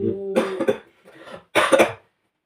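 Two close coughs a second apart, the first rough and drawn out and the second a sharp burst, heard indoors with no speech over them.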